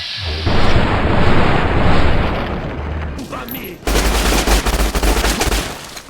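Dense bursts of game gunfire from Fallout New Vegas, loud and rapid like automatic weapons, come in two long volleys with a brief gap between.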